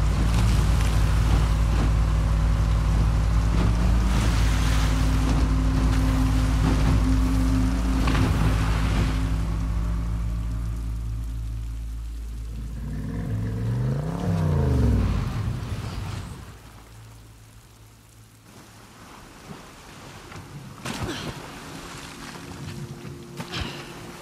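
A boat engine in The Last of Us Part II drones steadily while water washes and splashes around it, the motor rising and fading before settling into quieter lapping.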